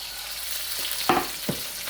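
String beans tossed in a pan with bacon, onions, ginger, garlic, oyster sauce and white pepper: a steady close sizzle with a few sharp clatters of food being tossed about.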